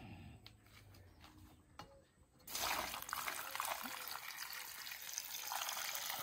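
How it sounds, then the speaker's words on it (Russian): Water pours steadily into a cauldron packed upright with corn cobs, a loud broadband rush starting a few seconds in after quieter clatter and continuing unbroken to the end, close to the listener. "Добавим воду."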